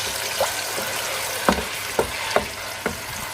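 Onions added to hot oil sizzle steadily in a pan for a cauliflower and mutton curry, under a constant frying hiss punctuated by a handful of distinct stirring clicks and scrapes.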